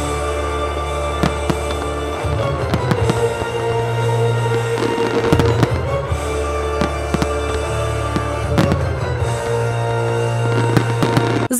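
Fireworks display at the Smolensk pyrotechnics festival, opened by the previous year's winning team from Kazan: continuous loud crackling and popping bursts with heavy booms, dense and overlapping throughout, no voices.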